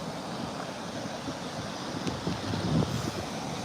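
Ocean waves wash onto a beach in Sao Paulo, Brazil, a steady rushing roar with some wind buffeting the microphone and a slightly louder swell near the end.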